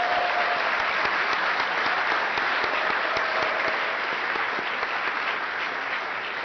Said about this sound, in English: I'd ask one more time just for a round of applause to recognize all the folks at the hotel